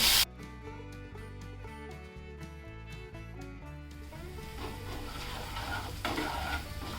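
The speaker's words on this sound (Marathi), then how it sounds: "आलं आणि मिरची ना तुम्ही असंच तेलामध्ये फ्राय करून घ्या" Ginger and green chili frying in oil, a soft sizzle that rises and thickens in the second half, under steady background music.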